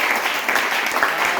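A church congregation applauds the Lord, a dense, continuous burst of clapping from many hands close by, with no voice heard over it.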